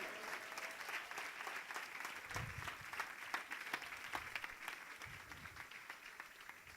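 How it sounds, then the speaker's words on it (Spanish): A church congregation claps at a Spanish-language service, a dense, fairly faint wash of many hands with a few sharper claps standing out, continuous and without speech over it. "¿Cuántos aplauden al Rey?"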